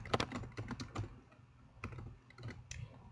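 Close, irregular bursts of keystrokes on a computer keyboard, quick clusters of taps separated by short pauses, quiet and with no voices.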